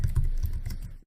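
Quick keystrokes on a computer keyboard while writing Java code, a brief run of soft, rapid, evenly spaced taps close up that ends abruptly.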